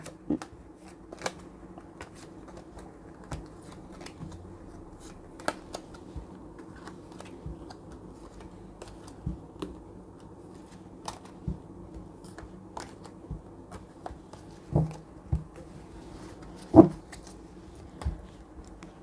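Tarot cards being shuffled by hand in a quiet room, a long run of soft riffling and sharp flicks and taps, close and clear, with louder snaps scattered through the second half.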